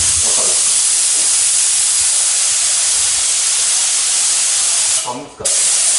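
Spray gun hissing steadily while paint is sprayed onto a Suzuki Jimny JB23 wheel, a continuous broadband spray close up that breaks off briefly near the end.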